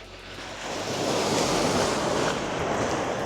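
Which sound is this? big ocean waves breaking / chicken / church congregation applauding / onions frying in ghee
big ocean waves breaking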